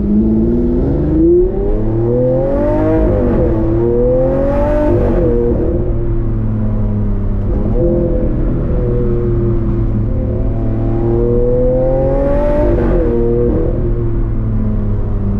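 A Lamborghini Aventador SV engine revs loudly and close, its pitch climbing and falling in repeated sweeps over a steady deep rumble, with a voice briefly heard.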